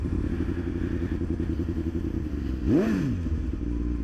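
BMW S1000RR sport motorcycle rolling off the throttle, a steady close engine drone with engine braking, then a brief rising-and-falling rev sweep near the end before settling back into the drone.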